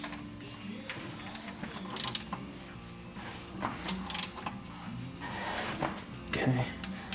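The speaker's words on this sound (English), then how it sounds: "we're just going to turn the crank until I get to the next hole" Engine crankshaft turned by hand while torque converter bolts are installed, giving intermittent ratcheting, clicking mechanical sounds with a few louder clanks, close up, under some quiet speech.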